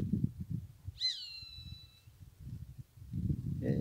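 A maritaca parakeet gives one sharp, harsh call about a second long, heard in the open over low rumbling background noise, followed by a short squawk at the end.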